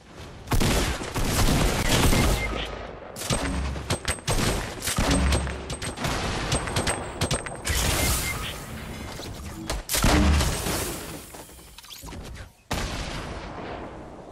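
In Fortnite, loud booming explosions and blasts from a gold grenade launcher, mixed with other gunfire, fill the scene almost continuously, with several heavy impacts standing out.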